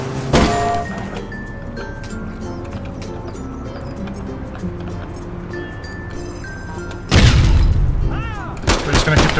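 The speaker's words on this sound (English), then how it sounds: "Throwing grenades at each other." Grenades explode in the online shooter APB: Reloaded, with a loud opening blast, a stretch of rumbling game noise, then another heavy detonation followed by sharp bangs and debris near the end.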